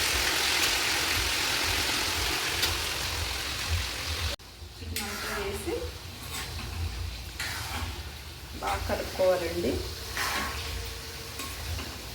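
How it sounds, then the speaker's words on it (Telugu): Chicken pieces frying in hot oil for chicken pickle, a loud, steady hissing sizzle that drops away partway through, leaving quieter crackles under a speaking voice. "ఆయిల్ అయితే బాగా కాగిన తర్వాత అయితే మనం చికెన్ అయితే దాంట్లో ఫ్రై చేసుకోవాలండి"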